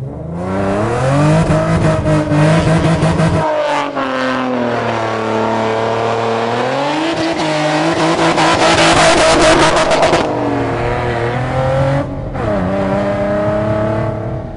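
Ford Mustang Shelby engine revving hard and continuously while the car spins donuts, a loud close roar rising and falling in pitch for the whole stretch.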